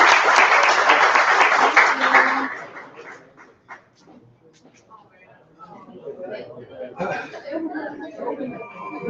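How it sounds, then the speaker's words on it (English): Applause from the audience at a WordPress meetup, loud group clapping for about two seconds that fades into relaxed chatter, laughter and scattered talking. "One last round of applause for Chief for hosting us again."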